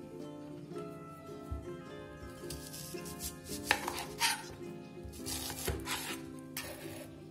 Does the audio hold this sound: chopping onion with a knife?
yes